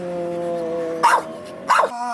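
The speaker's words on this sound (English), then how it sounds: "Oh, good dog." A dog barks twice, loud and close, two short sharp barks with a pause between them, over a steady tonal background hum.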